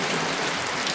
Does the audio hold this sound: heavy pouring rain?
yes